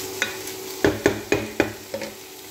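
Shrimp stir-fried with onion in a pan: a handful of sharp spatula scrapes and clanks land in an uneven rhythm over a low sizzle, close and fairly loud, with no speech.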